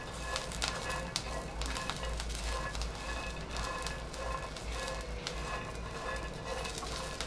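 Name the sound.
peanuts and green chillies roasting in a pan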